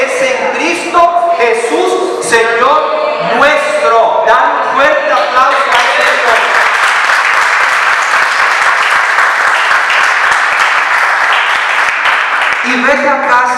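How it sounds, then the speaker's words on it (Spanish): A Spanish-speaking church congregation breaks into loud, sustained applause that swells and fills the room for several seconds after a preacher finishes speaking. "Dan un fuerte aplauso a Él."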